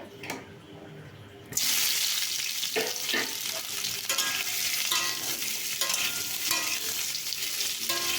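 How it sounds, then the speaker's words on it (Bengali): Boiled, peeled potatoes go into hot mustard oil in a wok for spiced potato curry. A quiet opening gives way to a sudden loud sizzle, followed by steady frying with stirring knocks and scrapes. "কড়াইতে সর্ষের তেল দিয়ে প্রথমে আলুটাকে ভেজে নেব হালকা করে"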